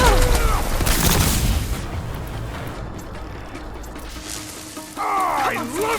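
Heavy cannon blasts from Horizon Forbidden West's Burning Shores expansion boom in clustered volleys at the start and again near the end, mixed with game character vocalizations and a lower rumbling lull between.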